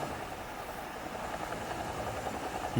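A helicopter in a war video game hums as a steady, droning engine throb, moderately loud and continuous, with no talking.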